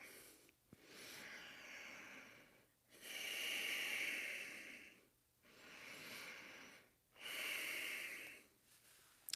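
Slow, deep breathing during a yoga class, with long audible inhales and exhales, close and airy, alternating in a steady rhythm with brief quiet gaps between breaths.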